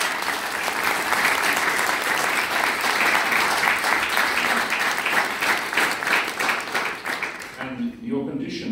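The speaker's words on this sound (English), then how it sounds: "A round of applause" A studio audience gives a full round of applause at an interview, sustained dense clapping for several seconds that fades out, followed by a voice speaking.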